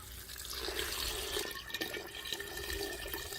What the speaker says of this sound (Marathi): आता हे गरम करून पाणी घेतल्याला हे ह्यात घालायचं